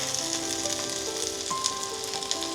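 Fried lady finger (okra, bhendi) sizzles steadily in a kadai during stir frying, a close, continuous crackling hiss with a faint higher tone running through it and no talk.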